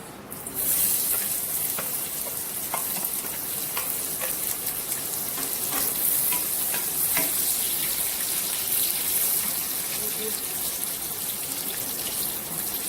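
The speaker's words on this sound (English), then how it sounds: "And the oil is nice and hot. Now I brown the onions." Sliced onions browning in hot oil for a chicken mulligatawny curry, producing a loud, constant crackling sizzle that holds evenly throughout with small pops, and no voices.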